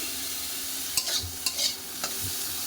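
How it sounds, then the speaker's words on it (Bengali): Soybean chunks fry in a pan for a curry, with a soft continuous sizzle and a few short stirring scrapes at irregular intervals, close up with no talking. "সয়াবিনটাকে প্রথমে ভেজে নিচ্ছি।"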